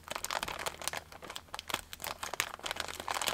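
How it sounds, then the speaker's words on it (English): Scissors snip through a sticker package, with rapid crinkling and crackling of plastic wrapping in quick, close bursts throughout. "let's go ahead and open it up with some scissors"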